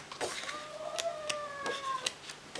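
A cat meows a few times, with drawn-out tonal cries rising and falling over faint background noise.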